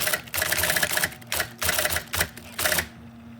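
Rapid, uneven bursts of keyboard clatter from keys pressed at random, arriving in several clusters of fast clicking separated by short pauses and stopping abruptly near the end.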